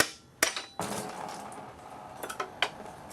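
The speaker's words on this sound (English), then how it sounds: "I'm just going to take a small hammer and tap it right here." A small hammer taps the water pump of a 1.8T engine a few times, sharp clinking strikes spaced irregularly, close and fairly quiet.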